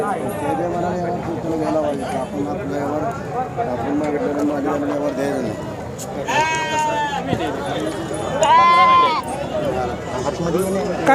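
Sheep bleat twice, wavering and fairly close, over a steady din of crowd chatter and milling people at a goat and sheep market in Sangola.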